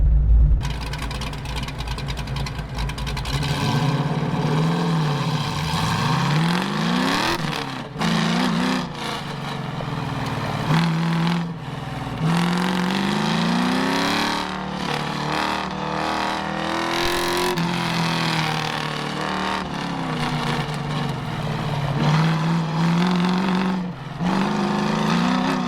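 A 1968 car's engine revs hard and drops through gear changes on an autocross run at PIR, loud and close for the whole stretch, with rising and falling pitch sweeps and no talk.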